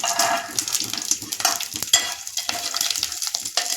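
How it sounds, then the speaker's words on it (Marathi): Garlic sizzles and crackles in hot oil with curry leaves, cumin and mustard seeds, a steady close frying hiss broken by spoon stirring and scraping against the pan. "कढीपत्ता, जिरं, मोहरी चांगली परतून झाले. आता आपण यात लसूण टाकूया."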